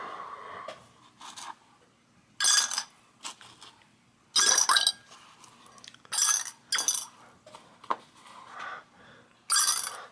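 Small metal parts from a Sturmey-Archer three-speed bicycle hub clink and rattle in bursts as they are cleaned in mineral spirits, with sharp, irregular jangles between quieter stretches and no voices.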